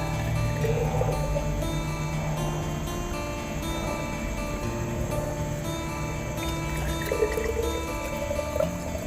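Tomatoes poured from a pitcher into canning jars, a continuous liquid pouring and gurgling sound that fills steadily and stays close and fairly loud throughout, with no talking.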